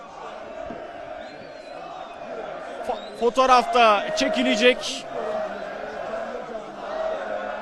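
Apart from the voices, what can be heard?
fans chanting for Leroy Sané at Atatürk Airport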